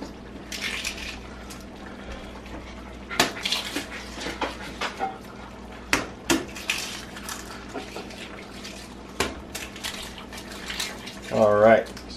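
Whole eggs with their shells are broken by hand into homemade dog food, giving wet cracks, squelches and clinks against a bowl at close range, with a short burst of voice near the end.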